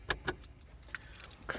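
Keys jangling close by as a 10th-generation Honda Civic is started, a few quick metallic rattles and clinks in short bursts over quiet cabin background.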